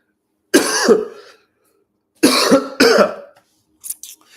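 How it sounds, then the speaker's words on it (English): Several harsh coughs in separate bursts: one, a pause, then two close together, followed by a faint short clearing of the throat. "So I'm sorry for coughing"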